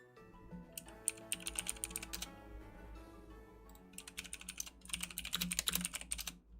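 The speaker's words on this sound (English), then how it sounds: "Uh-oh. That was not frantic typing." Someone types on a computer keyboard in fast bursts of sharp clicking keystrokes, up close over low background music, with a brief pause between two flurries.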